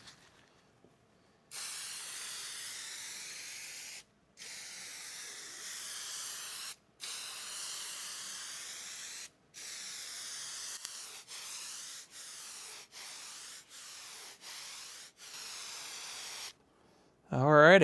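Spray can applying a coat of adhesive, heard as repeated hissing bursts of a few seconds each, then a run of shorter sprays, close and clear, with a brief spoken word at the end.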